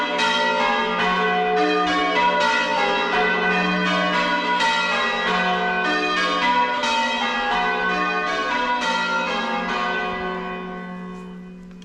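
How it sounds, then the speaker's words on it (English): Church bells of St. Peter's ring out during a Tuesday evening bell ringers' practice night in Great Cheverill, Wiltshire, a loud continuous peal of overlapping strikes that fades away at the end. "the bells will stop and start because it's only a practice night"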